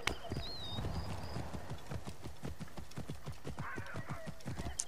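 A horse's hooves clip-clop at a brisk, regular trot in the video game Assassin's Creed Origins, set in Alexandria, with a short whinny-like call early on and a faint voice in the background.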